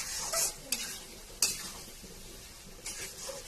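Shrimp for a dopeyaja are stirred in a pan with a little water, a spatula scraping and clinking against the metal in a few distinct strokes over a soft background sizzle.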